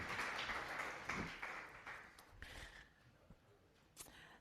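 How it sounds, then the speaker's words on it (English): A round of applause for Belinda Rhodes from a small gathering, with scattered hand claps rising and then thinning out over several seconds, heard from a moderate distance. "would you let us give you a round of applause to thank you?"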